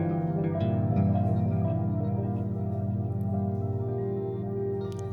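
Electric guitar run through a Dawner Prince Pulse rotating speaker emulation pedal, sustained chords and notes swirling with a pulsing wobble, moderately loud and steady, played alone without speech.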